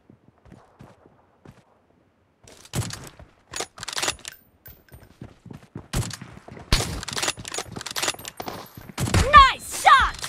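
Sniper rifle gunfire in the mobile battle royale game PUBG Mobile, with scattered sharp shots and bursts of game action of varying loudness, plus voice callouts over the gameplay.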